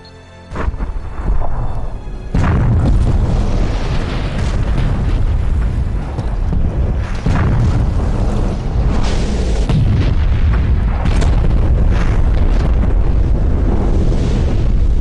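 Explosion following a countdown, a deep booming blast that bursts in after a short quiet lead-in and then rolls on as a long, loud, sustained rumble with scattered crackling pops and no talk over it.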